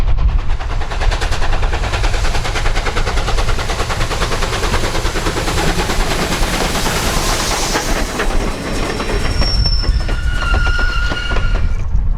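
A steam train on the Grand Canyon line rumbles past loudly and steadily on a winter morning, with rhythmic chugging and rattling wheels, and thin high squeals appear near the end.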